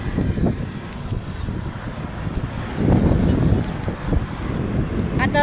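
Strong wind buffets the microphone on a road near a flyover in Cavite, a steady low roar with gusts swelling around the middle, rising and falling without a break.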